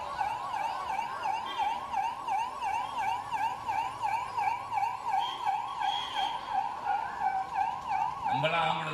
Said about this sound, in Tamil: நம்மளாம் ஆம்புலன்ஸ்க்கு வழி விடுவோம்ல.